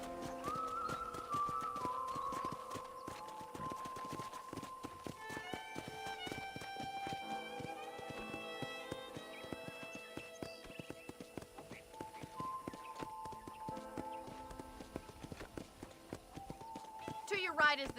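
Horse hooves clip-clopping on a ranch in the video game Red Dead Redemption, a steady rhythmic trot heard throughout alongside a narrating voice and a soft musical score.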